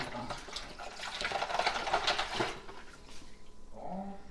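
Water runs and splashes into a container being filled for a turkey brine, a close, uneven pouring rush that fades out after a few seconds into quieter room sound.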